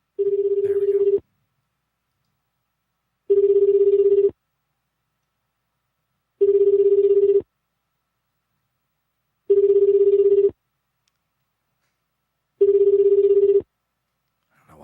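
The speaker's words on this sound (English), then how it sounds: "Let's see if we can get him on the phone. We probably can't." Outgoing call ringback on a telephone, five evenly spaced steady tone bursts about two seconds apart with silent gaps between, clear and fairly loud on its own.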